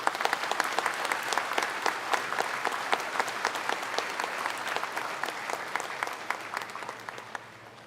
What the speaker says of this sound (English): You need to give a louder round of applause for yourselves.